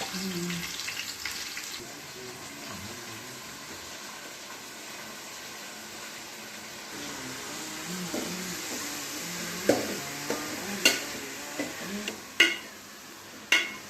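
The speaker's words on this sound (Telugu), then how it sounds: "గంటతో కలబెడుతూ ఆనియన్ని వేపుతున్నాడు." Onions frying in oil in a pot while being stirred with a ladle for a fish curry, a soft continuous sizzle with occasional louder metallic scrapes and knocks of the ladle toward the end.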